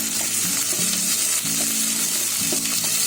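Green chillies, onions and peas fry in a pan with a loud, steady close sizzle, broken by repeated rhythmic scraping strokes of a spatula.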